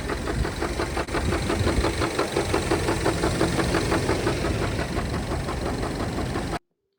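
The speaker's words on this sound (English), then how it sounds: "the engine is knocking like this." An idling Mini Cooper S engine runs close by with a steady, rapid metallic knocking beating through it, then cuts off abruptly.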